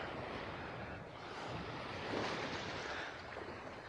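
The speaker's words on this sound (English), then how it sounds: "The water just running over your feet on the sand." Shallow water runs over feet on a sandy Maldives beach, a steady wash of surf, a continuous broadband rush with a slight swell in the middle, no voices.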